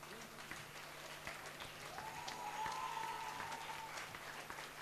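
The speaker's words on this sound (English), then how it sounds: "Thank you, friends of class 12 and class 10 for cheering their friends." A school audience applauds students on stage after a class play, a steady wash of clapping that swells slightly midway and carries on without pause.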